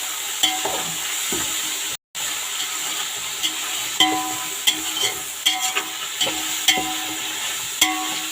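Biryani ingredients fry in a pan with a steady sizzle, broken by frequent scraping knocks from a stirring spoon, close and fairly loud.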